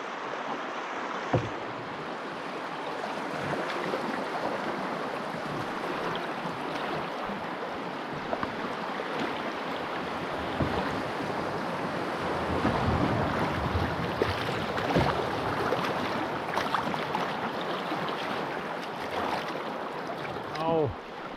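River rapids on the Flambeau River at Wanigan Rapids rush steadily in a broad continuous roar, heard from a boat on the water with wind buffeting the microphone throughout.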